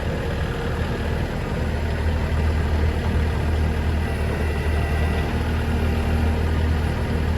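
A vehicle engine idles steadily with a trailer hitched as it begins backing out, a continuous low, close rumble with no voices over it.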